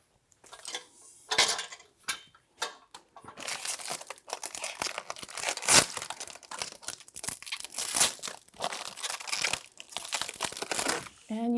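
Plastic packaging crinkles and crackles as it is pulled off parts of a Tower & Mat retrofit kit for an Allegro 2 reformer, with irregular close rustling bursts and occasional clinks, continuing throughout.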